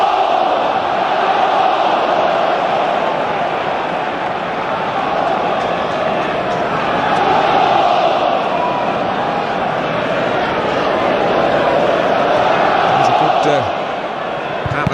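Football supporters fill Villa Park with a steady roaring crowd murmur at an Aston Villa versus Manchester United Premier League match, swelling and easing in waves while a commentator talks over it.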